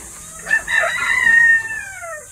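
A rooster crows once, nearby and clear, a drawn-out call fading at the end.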